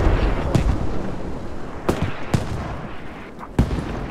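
Gunfire in the military shooter game Squad: a handful of sharp, irregularly spaced shots that crack out over a constant rumbling battlefield background, sounding moderately distant.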